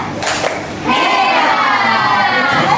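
A school class in a teaching-practice lesson breaks into the rhythmic 'tepuk hebat' clapping chant, a burst of many hands and young voices that swells after a brief lead-in and stays loud and steady to the end.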